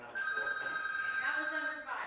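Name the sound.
telephones ringing with callers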